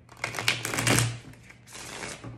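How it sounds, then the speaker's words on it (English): A deck of tarot cards is shuffled by hand in a quiet room, giving a run of soft, close riffling and flicking bursts with a brief pause and then more shuffling. "One more shuffle."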